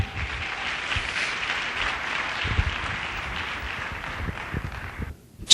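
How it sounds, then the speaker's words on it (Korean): Sustained applause from an audience at a taekwondo dojo seminar, steady dense clapping throughout that cuts off abruptly near the end. "박수 부탁드립니다"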